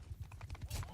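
Quick, rhythmic clip-clop of a horse's hooves in a video game, a fast run of close hoofbeats with a voice talking faintly underneath.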